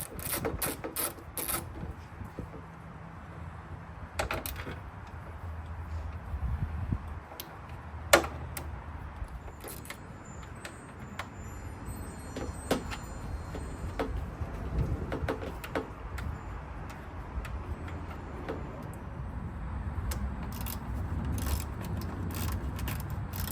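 Ratchet loosening 10 mm nuts on the headlight of a 1995–2004 Toyota Tacoma, giving repeated close clicking bursts with a few sharper clacks, set against steady background hum.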